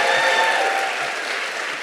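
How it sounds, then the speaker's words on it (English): Sustained audience applause fills a school awards show for student filmmakers, a dense, even wash of clapping at steady loudness that tapers slightly toward the end. "Let's give them one more round of applause."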